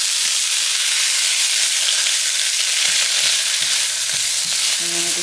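Onion and red peppers sizzle and fry steadily in a little olive oil for fried rice, a loud, continuous crackling hiss with no talk, and low clanks of a utensil stirring the pan near the end.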